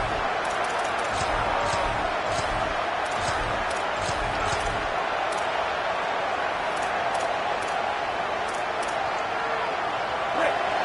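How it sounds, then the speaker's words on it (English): A large stadium crowd roars steadily through a Nebraska vs UCLA college football game as the offense lines up on first and goal, a dense continuous wall of noise with a commentator talking over it. "This offense trying to quieten the crowd on 1st and goal, and they are not cooperating."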